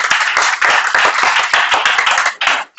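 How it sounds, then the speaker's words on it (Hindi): Students in a biology class clap loudly together to honour scientists, a dense, close burst of hand claps that cuts off abruptly near the end. "एक बार ताली मार दीजिए दुनिया वालों साइंटिस्ट लोगों"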